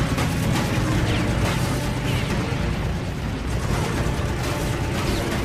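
Machine guns on a P-40 and an Oscar fighter plane fire at the same time in a wartime dogfight. Dense, rapid bursts of gunfire merge into a loud, continuous rattle.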